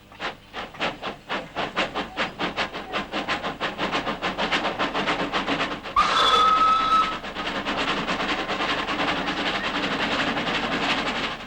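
A Festiniog Railway narrow-gauge steam train on 2-foot gauge track, with rhythmic chuffing that quickens over time, steady clatter and hiss, and a brief whistle midway, no voices.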